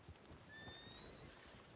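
Horses neighing from a stable, a pair of drawn-out whinnies rising and falling over a low outdoor background, moderately distant and faint, with no talk.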